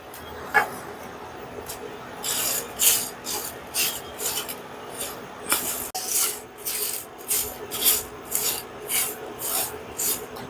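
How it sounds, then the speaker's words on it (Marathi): Whole biryani spices dry-roast in a pan for vegetable biryani, a repeated dry scraping and rattling as a spatula pushes them around in rhythmic strokes, close and fairly loud. "हे सर्व मसाला घेतलेला आहे मी बिर्याणीसाठी हा आपण आता भाजून घेणार आहोत"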